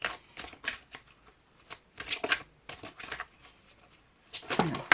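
Bursts of a deck of cards being shuffled for a tarot-style reading, several riffling passes in close, distinct clusters with short pauses between, no voices.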